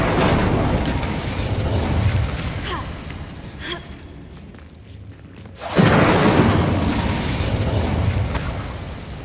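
A fire spell cast in the video game Hogwarts Legacy sounds as a dense whooshing burst with low rumble and crackle, a brief drop to near silence, then another loud fiery surge that rolls on steadily to the end.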